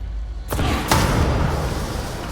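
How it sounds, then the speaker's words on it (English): An explosion in the video game Control: a sudden loud burst followed by a second blast, with a dense, rumbling roar that sustains afterward. "Nice explosion."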